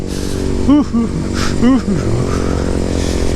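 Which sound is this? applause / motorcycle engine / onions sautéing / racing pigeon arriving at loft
motorcycle engine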